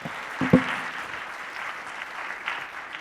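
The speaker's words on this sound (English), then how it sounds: "A round of applause for everybody." Audience clapping at a kindness summit talk, a steady wash of applause from a seated crowd with a couple of louder thumps near the start.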